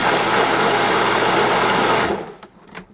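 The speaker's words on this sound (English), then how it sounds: "restaurant style salsa out of your food processor." A food processor blends restaurant-style salsa, its motor whirring loud and steady for about two seconds before cutting off, followed by faint clicks and handling noise.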